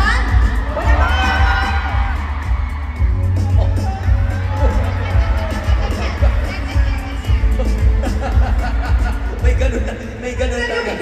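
Crowd at a PBB Collab Q&A event on Acer Day cheering, whooping and shouting loudly and continuously, a dense roar of many voices with music underneath throughout.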